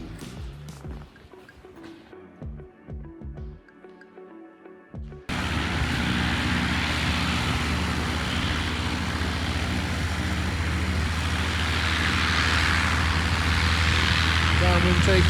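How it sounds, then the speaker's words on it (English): A Cessna 182 propeller engine roars up to full power for a downwind takeoff, going from an idle with talk to a loud, steady drone heard from inside the cockpit. "Downwind takeoff."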